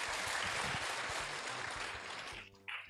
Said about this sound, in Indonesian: Beri tepuk tangan bagi Yesus Kristus.